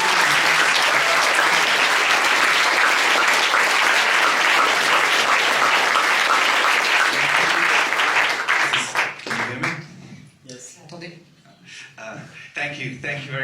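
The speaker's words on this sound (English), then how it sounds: "je souhaiterais que vous accueillissiez avec beaucoup d'applaudissements David Gregory qui a fait le documentaire" Sustained audience applause fills a festival screening room as a documentary director is welcomed on stage, loud and dense for about eight seconds before thinning into scattered claps and a few voices.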